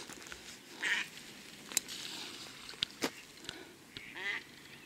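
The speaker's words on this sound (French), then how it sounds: "Oh, il y a encore des canards, dis donc." Ducks on the ponds of Commelles quack and call faintly at a distance, a few scattered honking calls over quiet outdoor ambience with small knocks and rustles.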